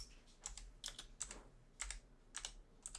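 Bursts of typing on a computer keyboard during a livestream setup, quick clusters of clicky keystrokes at irregular intervals, faint and somewhat distant.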